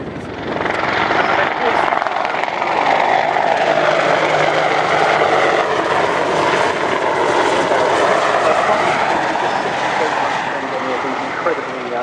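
A WAH-1 Apache attack helicopter flies past. Its loud, sustained rotor and engine roar stays steady throughout.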